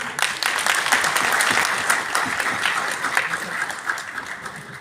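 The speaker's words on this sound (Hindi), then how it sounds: "जोरदार तालियों से स्वागत करता है" A hall audience at a retirement program in the Lok Sabha claps loudly and continuously to welcome a speaker, dense sustained applause from many hands throughout.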